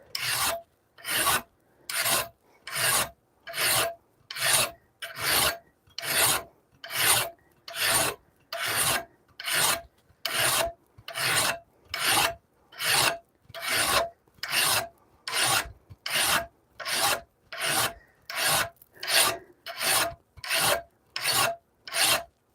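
A hand file rasps along the steel of a hand-forged Bowie knife in steady, evenly spaced strokes, about thirty close, loud scrapes with short pauses between them and no talking.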